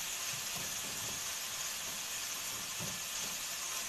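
Onion cooking in a pan at home, giving a steady, even sizzling hiss that runs unbroken throughout, with no voices.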